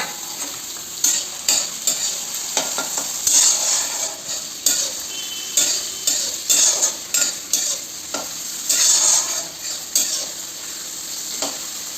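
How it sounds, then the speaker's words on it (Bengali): Steady oil sizzle of beans frying in a pan, with repeated scraping and stirring strokes throughout; no voices. "এটা আগে ভেজে নিচ্ছি"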